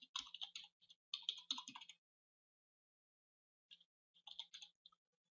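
Typing on a computer keyboard to enter an email address: two quick bursts of clicking keystrokes, a pause, then a shorter final burst, close and fairly quiet with no talk.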